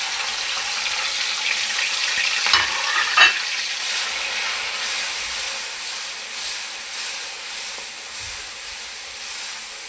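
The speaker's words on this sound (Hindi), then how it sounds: "खूब गर्म करने के बाद इसके अंदर टमाटर शामिल कर देने हैं।" Tomatoes fry in hot oil in a karahi for karahi gosht, giving a steady, loud sizzle and hiss throughout, with a few soft scrapes of stirring and no voices.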